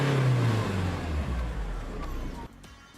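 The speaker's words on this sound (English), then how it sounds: "And it revs all the way to 4000 plus." A Force Gurkha Xtreme engine revs steadily from inside the cabin, a dense mid-range drone that holds, swells slightly and then drops off sharply near the end.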